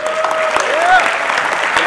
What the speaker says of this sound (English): I just want to give one more round of applause